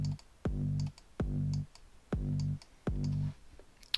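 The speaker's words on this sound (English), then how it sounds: "the tuned kick sounds like this" A tuned electronic kick drum sample hits four times at an even pace, each a sharp click followed by a sustained, pitched low boom that cuts off cleanly, loud and alone with no voices.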